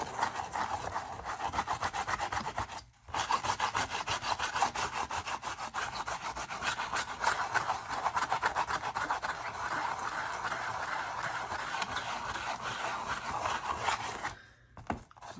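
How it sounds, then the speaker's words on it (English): Rubber cement square scrubbing dried salt granules off watercolour paper: a close, continuous rapid back-and-forth rubbing rasp with a short pause and restart, no voices. "I have here a rubber cement square so that I can rub off the salt granules."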